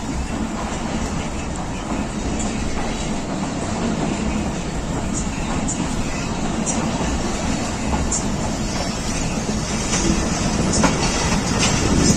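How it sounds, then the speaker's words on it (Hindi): Pakistan Railways Shaheen Passenger train rolling out of Sialkot, a loud continuous rumble with rhythmic wheel clatter on the rails, heard from on board. "226 डाउन शाहीन पैसेंजर सियालकोट से चल पड़ी है।"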